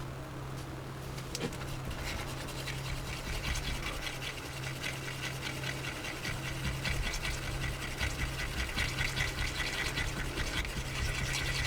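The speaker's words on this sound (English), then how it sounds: "Just stir the other tub." Resin is stirred in a tub, making a continuous soft scraping and swishing with small irregular knocks over a low steady hum, quiet and with no talking.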